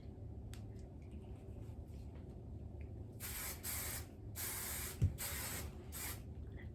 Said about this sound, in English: I actually might have a hairspray